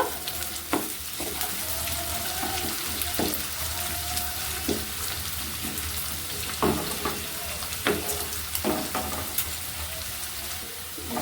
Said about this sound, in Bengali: আগে আগে একটু বিনস আর গাজরটা ভেজে নেব